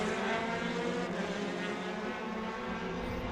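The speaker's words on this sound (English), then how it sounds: "the Radicals powered by motorcycle engines" Radical race cars powered by Suzuki Hayabusa or Kawasaki motorcycle engines race around a circuit, a steady high-pitched engine drone that holds at even loudness throughout, without talk.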